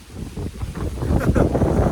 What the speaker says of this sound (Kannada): ಇಲ್ಲಿ ಎಷ್ಟು ಗಾಳಿ ಇದೆ ಅಂದರೆ ಫುಲ್ಲು ಮರ ಎಲ್ಲ, ನನ್ನ ಮರ ಕೂದಲು ಎಲ್ಲ ಹೆಂಗೆಂಗೋ ಆಡ್ತಾ ಇದೆ